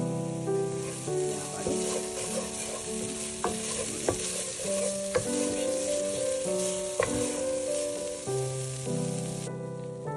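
Ground cumin sizzles hard in hot oil for a Kolkata-style chicken bharta, a continuous crackling fry with occasional stirring scrapes, close and fairly loud.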